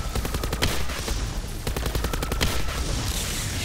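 Rapid automatic gunfire from shooting zombies in Call of Duty Zombies, dense bursts of shots running almost continuously with no talk over them.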